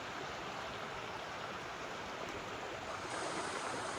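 Rushing water from a waterfall in rural Thailand roars as a dense, steady broadband wash, close and constant throughout with no talking.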